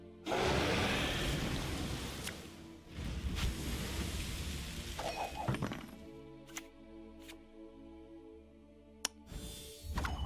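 Rain and thunder weather effect in the card game Gwent, a loud rushing burst of rain and rumble at first that fades into quieter tones and clicks.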